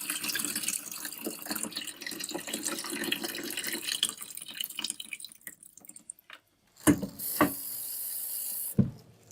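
Blood clams rinsed under a running kitchen tap: a long spell of rushing, splashing water, then a brief pause followed by sharp bursts and a steadier flow, close and fairly loud.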